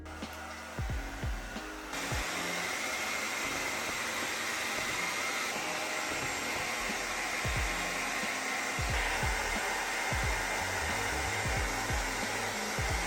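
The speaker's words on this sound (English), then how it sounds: "Now we're going to take our hair dryer, give it a little heat" A hair dryer roars steadily at close range, heating flowers pressed onto a candle, with a few soft knocks and handling sounds scattered beneath the constant blowing.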